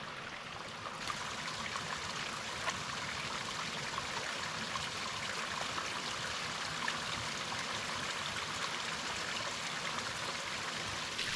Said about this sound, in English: The hot water is coming from this waterfall right here.